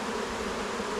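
A honeybee swarm hums steadily close by, a dense, even buzz of many bees with wing-fanning, holding unbroken for a second with no voices.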